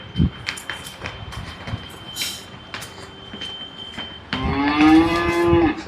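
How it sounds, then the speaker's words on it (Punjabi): A red Jersey heifer moos loudly near the end, a long low call with rich harmonics, after several seconds of farmyard background noise and scattered knocks. "ਲਾਲ ਰੰਗ ਦੀ ਵੱਛੀ ਇਹ"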